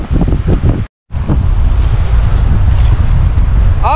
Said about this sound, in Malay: maaf lah berangin sikit ya sahabat